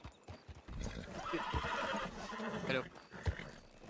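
Horses in a Red Dead-style western video game set around Blackwater whinny and clop their hooves, with people talking over the sounds.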